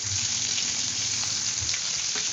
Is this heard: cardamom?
yes